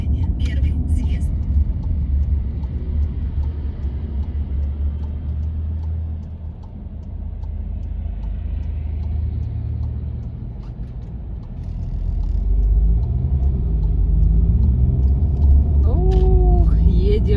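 A car on a long road trip enters a roundabout, its engine and tyre rumble steady and close from inside the cabin, rising slightly toward the end while people talk over it.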